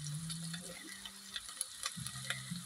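Onion and tomato sizzle and fry softly in a pan, with light stirring clicks and a low hum in the background.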